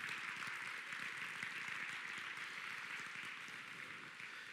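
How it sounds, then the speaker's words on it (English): Audience at an Easter beef cattle show clapping for young exhibitors, a faint, steady patter of applause heard from a distance, evenly sustained and slowly tapering. "Let's give all these young exhibitors a round of applause for putting the time in and effort."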